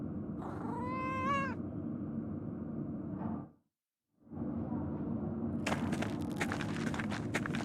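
A single clear meow from a cat in the Pentiment video game rises near the start over a steady ambient hum, followed by a brief silent break and then soft clicking and tapping sounds.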